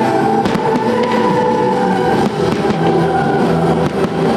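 Fireworks closing a city festival, a loud, continuous crackle and rumble of bursts with sharp pops scattered through it, heard from a crowd setting with no speech.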